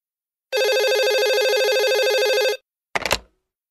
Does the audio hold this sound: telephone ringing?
yes